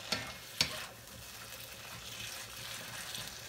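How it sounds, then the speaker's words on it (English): Ingredients for cheesy tuna pasta sauté in a pan: a soft, steady sizzle with a couple of sharp utensil clicks near the start, quiet and without speech. "just saute all of this"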